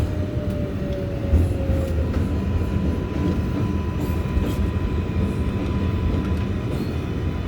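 An NYC subway R142A 6 train runs between stations with a continuous loud rumble and steady wheel and motor noise, including a brief tone early on.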